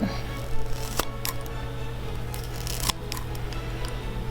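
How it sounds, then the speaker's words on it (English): A few sharp snips of kitchen scissors, spaced irregularly, over a steady low background hum. "This is a scissors only used in the kitchen. So just whack it."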